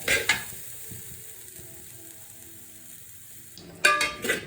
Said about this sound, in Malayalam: ഞാൻ ആ വറ്റൽ മുളകൊന്ന് മൂക്കാൻ വേണ്ടി മാത്രമേ ലേശം എണ്ണ ഒഴിച്ച് കൊടുത്തിട്ടുള്ളൂ.